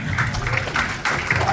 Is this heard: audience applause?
yes